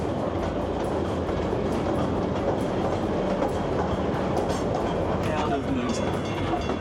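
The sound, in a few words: tourist train running on rails at Moonta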